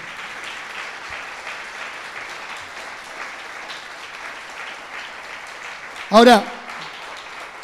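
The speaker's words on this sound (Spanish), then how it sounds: "Denle un aplauso al Señor entonces." A church congregation applauds during a Sunday service, a sustained, even wash of clapping that carries through the whole stretch, and a voice speaks briefly near the end.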